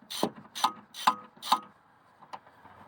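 A hand ratchet clicks in short bursts while tightening a nut on a front strut of a 1993 to 1997 Ford Probe or Mazda MX6, four sharp close rattles followed by two fainter ones.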